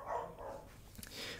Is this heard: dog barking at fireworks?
yes